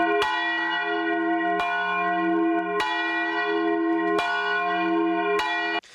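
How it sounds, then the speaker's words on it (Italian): Church bells toll for the Vajont disaster commemoration in the evening, five clear, resonant strikes at an even pace, each ringing on with a long humming decay that overlaps the next. "il rintocco delle campane alle 22:39 esatte"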